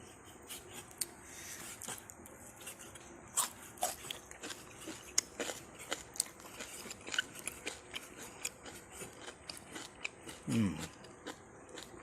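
Crisp, crunchy chewing of Isan-style goose larb, irregular close crackling bites repeating throughout, with faint background sounds between the crunches.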